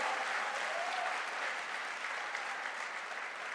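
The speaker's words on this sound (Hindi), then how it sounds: "अरे ताली बजाना तो थोड़ा जोर से बजाइए।" Sustained clapping from a crowd at a direct selling promotion event, a dense, even wash of many hands that holds steady for several seconds and tapers slightly near the end.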